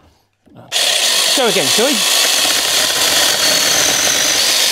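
A cordless 6-inch single-handed mini chainsaw starts up and cuts into hard timber, its loud steady buzzing whine filling the clip right after a brief spoken remark.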